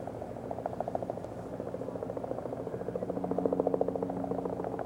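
A large United States of America government plane taxis slowly into its parking spot, its engines holding a steady droning hum with a rhythmic beating pulse that swells a little louder toward the end.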